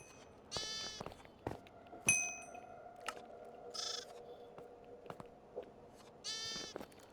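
Minecraft sheep bleat three times at spaced intervals, with a few sharp clicks and a faint steady hum in between, fairly quiet overall.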